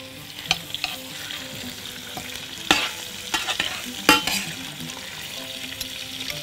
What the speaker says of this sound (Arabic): هجيب الجمبري بتاعي ينزل كده وهبدأ بقى